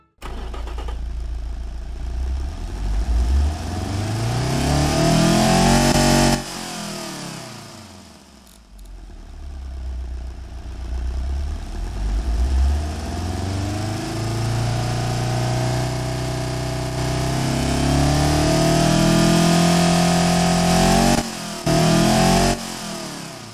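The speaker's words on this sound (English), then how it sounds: "let's give you one to hear what this engine sounds like right about now" A 4-cylinder truck engine revs repeatedly in the game Automation, rising and falling in pitch with sustained throttle, loud and close, with a brief pause before it climbs again.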